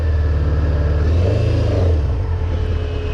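Honda CBR600F4 motorcycle engine with freshly rebuilt carburettors, hesitating when the throttle opens: a loud, close, steady engine drone that swells slightly and then sags, heard alone.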